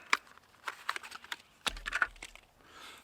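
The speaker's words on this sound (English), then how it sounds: "I can open it up and see what's inside the box." Cardboard box for an Olight Warrior Mini 2 flashlight is torn open up close: sharp rips, taps and crinkling clicks in irregular bursts, faint and alone.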